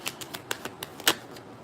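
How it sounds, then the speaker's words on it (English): A deck of tarot cards shuffled during a live reading, a quick run of crisp riffling snaps and light card taps, soft and close with no talk. "let me shuffle up a little bit"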